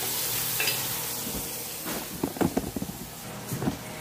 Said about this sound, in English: Got that bacon still cooking.